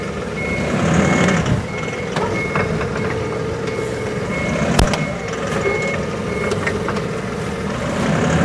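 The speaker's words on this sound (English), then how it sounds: "The forklift will be able to jerk it around with this much weight hanging behind it better than a tractor will." Reversing beeps and an idling diesel engine are loud and steady, with clanks and knocks scattered through, as a machine handles a heavy load on Hardox pallet forks mounted on a compact tractor.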